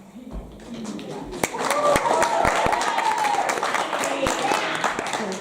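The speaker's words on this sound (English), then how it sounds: "If we can hold our applause" Students and families at a college's final senior assembly break into applause, a busy spread of clapping with sharp individual claps and crowd murmur, building after a quieter start.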